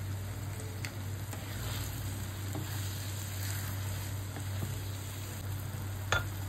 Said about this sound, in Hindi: हल्के हाथों से पनीर को मिलाएंगे।